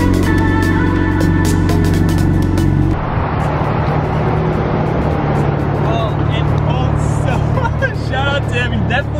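BMW 135i with 145,000 miles driving on the road, a steady loud engine drone with low harmonic hum and road rumble, shifting tone after about three seconds, with speech layered over it.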